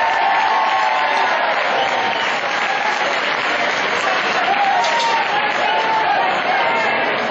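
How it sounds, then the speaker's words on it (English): Loud, sustained crowd applause at a boxing event, a continuous roar of many hands clapping with some cheering mixed in, filling a large venue throughout. "a round of applause for Mr."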